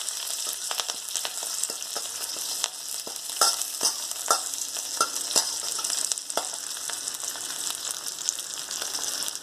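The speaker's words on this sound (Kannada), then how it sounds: "ಹಸಿಮೆಣಸಿನ್ಕಾಯಿ ಒಂದು 5 ಇಟ್ಕೊಂಡಿದ್ದೀನಿ. ಕರಿಬೇವು ಹಾಕ್ತಾಯಿದ್ದೀನಿ. ಇದೆಲ್ಲ ಸ್ವಲ್ಪ ಬಾಡ್ತೀನಿ." Green chillies and curry leaves frying in oil in a pan for brinjal hasi gojju, a steady close hiss and sizzle with crackling pops throughout, no voices.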